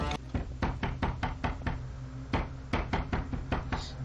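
Repeated knocking on a door in a TV horror episode, a steady series of sharp raps in two bursts with a short pause between, fairly close and with no voices over it.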